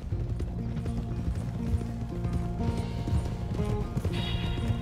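Horse hooves clip-clop at a walking pace in Red Dead Redemption 2, amid a busy background of rattling, clanking noises, with a brighter metallic jingle near the end.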